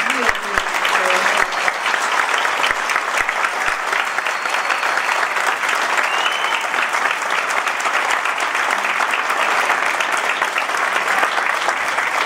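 Loud, steady applause from an audience at a political event for Mirta Tundis, a national deputy of the Frente Renovador, sustained without a break, with a few sharper individual claps near the start.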